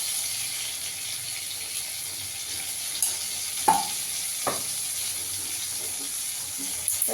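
Hot oil in a pan after frying prawns for a Bengali curry, giving a soft continuous sizzle and hiss punctuated by a few brief clinks and stirring knocks.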